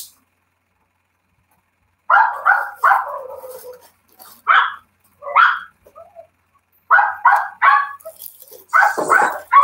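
Dogs bark outside in repeated clustered bursts after a silent start, loud and close, with a few separated yips between the volleys.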